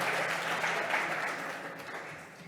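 Audience applause at a developer talk on blockchain tooling, a dense burst of clapping at moderate volume that slowly tapers off, with no talk over it.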